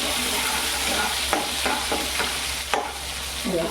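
Tomatoes cook in a pan with a steady hiss of sizzling oil, while a spoon stirs them in a few short scraping strokes close by.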